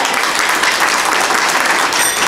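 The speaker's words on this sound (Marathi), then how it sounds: "म्हणून त्यांच्यासाठी जोरदार टाळ्या" An audience bursts into loud, dense applause, a sustained wash of clapping that holds steady for about two seconds.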